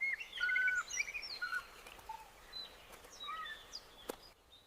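An Australian forest bird mimics other sounds in a rapid, varied sequence of whistles, chirps and sliding calls. The calls are clear and fairly close against a quiet background.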